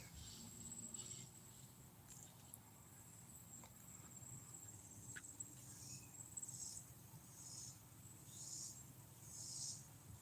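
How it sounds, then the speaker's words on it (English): Katydids call in repeated raspy bursts, one answering another at a distance, over quiet outdoor night ambience. "That is a couple of dueling cicadas."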